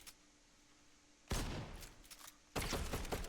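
Bursts of rapid gunfire in Fortnite aim training, a first burst lasting over a second and a second starting just after, loud and dense with sharp cracks layered over low game ambience, no voices.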